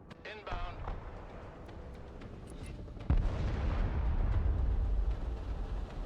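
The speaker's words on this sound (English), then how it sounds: "Airstrike is go for effect." Airstrike in the strategy game Broken Arrow, with scattered booming impacts and gunfire, then a heavy explosion landing and a sustained low rumble of blasts, loud and close, while a voice speaks over the action.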